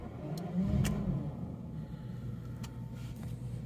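Jaguar XJS V12 6.0 facelift on its standard exhaust, heard from inside the cabin as a steady low rumble that swells briefly near the start, then settles into an even drone with no talk.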